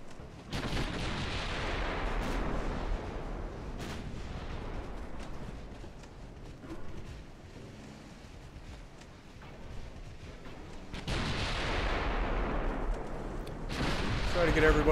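Naval artillery salvos in the warship game Ultimate Admiral Dreadnoughts, with booming gun blasts near the start, around four seconds and again near eleven seconds over a steady battle rumble, with a voice speaking in between.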